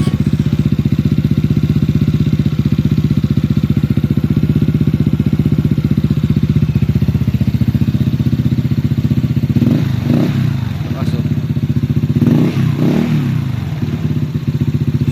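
A Honda PCX160 scooter fitted with a JVT V3 exhaust pipe idles close by with a steady, loud, deep rumble. A few clattering thumps come near the end.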